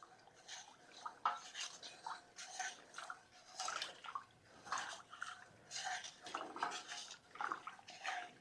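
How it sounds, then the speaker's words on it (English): A spoon stirs sugar into tea for kombucha, making repeated clinking and swishing against the container in uneven bursts, fairly quiet and close, with faint liquid sounds between strokes. "We're going to stir that until the sugar is completely dissolved."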